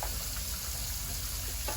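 Hot water runs steadily from a kitchen tap into a sink while dishes are washed. The rushing hiss is continuous, close and fairly quiet, with no voices over it.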